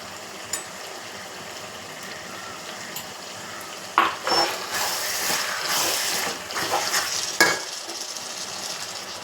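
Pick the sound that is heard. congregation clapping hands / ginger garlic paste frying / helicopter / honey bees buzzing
ginger garlic paste frying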